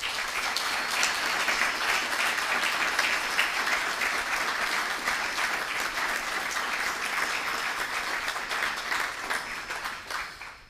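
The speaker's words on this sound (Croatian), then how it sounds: "Mislim da ih možemo nagraditi još jednim aplauzom." Steady, sustained applause from a seated audience at a university faculty day ceremony follows a musical performance, continuing evenly for about ten seconds before tapering off.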